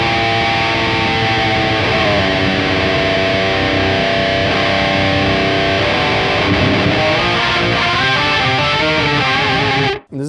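Electric guitar played through a Sonicake Matribox multi-effects unit on a tape-machine modulation setting, dense wavering distorted chords ringing loud and continuous, cutting off abruptly at the end.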